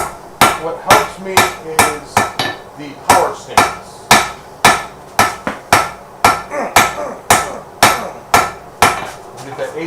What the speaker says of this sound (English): Man, this anvil.